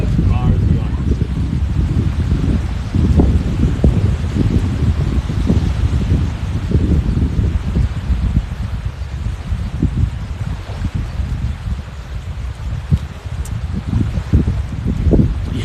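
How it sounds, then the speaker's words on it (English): Strong wind on a beach buffets the microphone continuously, a heavy low roar with gusty fluctuations throughout. "Yeah, it's windy, Lee, but we're managing."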